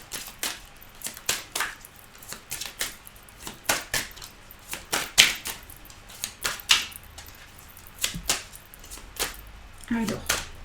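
Tarot cards shuffled by hand, a series of crisp, close riffling slaps and flutters in irregular bursts, fairly soft, with a few quiet pauses between.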